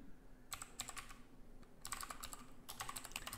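Quick bursts of typing on a computer keyboard while entering chart labels in Microsoft Excel, soft close clicking in short runs separated by brief pauses, with no talking.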